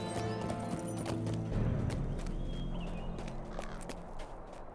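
Horse hooves clip-clop steadily in the Lord of the Rings Online game, set in Eregion, a mount moving at a walk amid a dense ambient game soundscape, fairly close and even in level.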